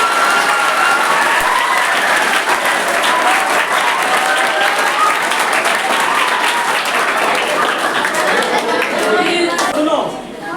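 A classroom full of students claps loudly and steadily for a sustained burst during a class 6 science lesson, dense and close, fading slightly at the very end.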